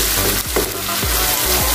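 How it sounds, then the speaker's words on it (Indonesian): Spice paste for fish pesmol sizzles and fries loudly in a pan with a little leftover fish-frying oil, while a utensil stirs and scrapes through it in repeated strokes, close and continuous. "Kita aduk-aduk terus ya, soalnya kalau nggak diaduk-aduk nanti bumbunya khawatir gosong."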